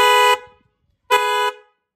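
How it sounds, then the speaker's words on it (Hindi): A Hyundai Creta horn fitted to a Mahindra Thar Roxx gives two loud, close, steady honks: one about a third of a second long, then after a pause a slightly longer second blast, each ending abruptly. "देखो थार में एक हॉर्न यहाँ पे लगा है"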